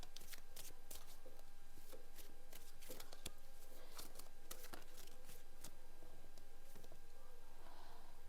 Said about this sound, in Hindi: मैं शफल यहाँ कर रही हूँ